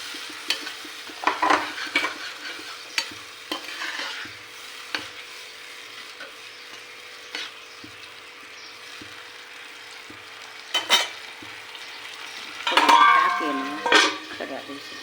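Water poured into a pan of crushed tomato-onion gravy for a chickpea curry brings a faint sizzle, with scattered spoon scrapes and clinks of stirring that grow busier toward the end.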